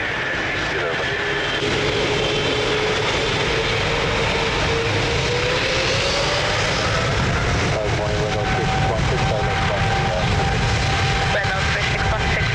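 A jet airplane takes off at Lisbon Airport, a loud sustained engine roar with a slowly rising whine, heard throughout, with radio voices faintly underneath.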